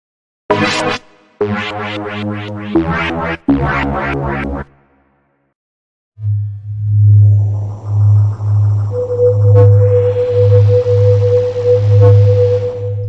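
Plogue Chipsynth MD synthesizer presets, first a few bursts of bright, bleepy chip-style notes, then a pause, then a throbbing low pulse with a rising noisy sweep and a sustained tone on top.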